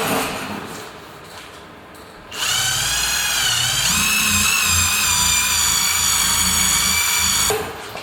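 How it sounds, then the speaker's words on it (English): A small machine polisher spins up on an Estoril Blue Audi SQ5's paint, a loud high-pitched whine that starts abruptly after a quiet moment, holds steady with slight pitch wobble, then winds down. "that's too deep to come out with the bigger machine polisher, so I'm gonna hit it with this one"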